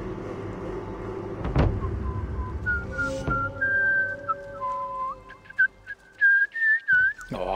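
Loud tonal whistling in Assassin's Creed Valhalla during a trading post conquest, a series of rising and falling pitched notes over steady background game ambience and a couple of sharp thuds.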